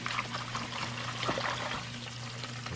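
Water poured over rice being rinsed in a pot or bowl, a steady close splashing trickle running the whole time alongside a low constant hum.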